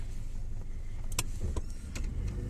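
Car interior on a drive out of a residential district and city, a steady low road rumble running throughout with a few brief clicks and rattles, no talking.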